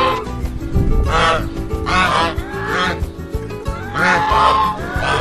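Ducks and Canada geese along the Rhine River honk and cluck in repeated bursts, loud and close, with noisy movement between the calls.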